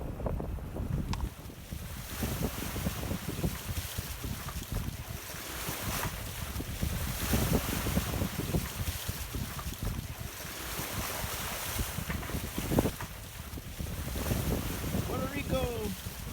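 Steady wind and water rush aboard a 42ft catamaran under sail between Culebra and Puerto Rico, a continuous broadband roar with gusty wind buffeting the microphone and faint distant chirps near the end.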